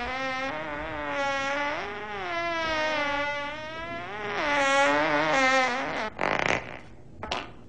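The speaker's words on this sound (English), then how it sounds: "Was that a fart?" A long, buzzing fart sound warbles up and down in pitch for several seconds, loud and close, then breaks into a few short sputtering bursts.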